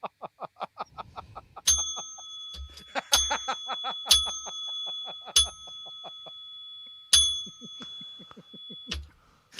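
A ten-bell salute sound effect: a series of bright, ringing bell strikes, about seven struck hits spaced irregularly with lingering tones, following a brief burst of rapid clicks at the start.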